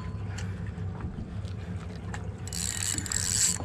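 Fishing reel drag ratcheting as line is pulled during a barracuda fight on Blackwater Sound near Key Largo, a buzzing mechanical clicking over boat and water noise, growing louder and higher near the end.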